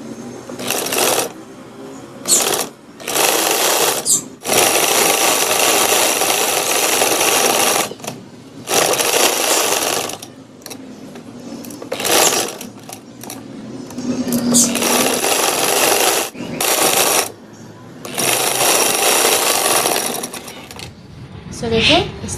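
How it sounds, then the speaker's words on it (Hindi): A sewing machine stitches a neck strip onto a boat-neck garment in loud, rapid bursts of whirring needle clatter with short stops between runs. A voice talks in the gaps. "तो अब इसको इसके ऊपर रख के सिलाई लगा देते हैं।"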